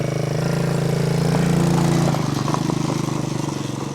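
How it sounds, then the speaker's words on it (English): New CFMoto CForce 110 youth ATV idling and creeping through a tight turn in a parking lot, its engine putting out a steady close drone with a faint rattling chain tensioner ticking underneath. "You can hear that chain tensioner with it being new."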